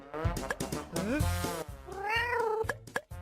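A cartoon cat in a Minecraft animation meows several times close up, drawn-out, whiny cries rising and falling, with brief pauses between calls.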